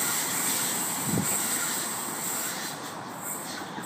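Low, steady rumble of a Sydney Trains train departing Mount Colah station with a soft hiss over it, one short thump early on, and no one speaking.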